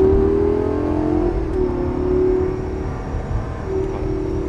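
A Lamborghini Gallardo holds third gear under steady throttle, its engine giving a loud, sustained drone with a slight rise and dip in pitch while the car runs at speed.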